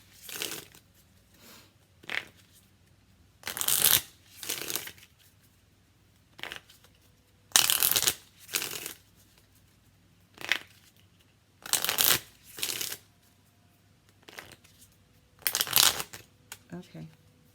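An Island Time Wellness card deck is shuffled in a string of quick, crisp riffling bursts separated by short quiet gaps, close and fairly soft, with a faint voice between.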